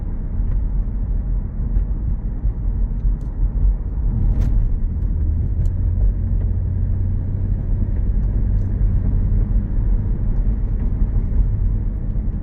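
A 2004 Mercedes-Benz SL 500 convertible cruises along the road, heard from inside as a steady low rumble of engine and road noise with a few faint creaks and ticks, continuous and without speech.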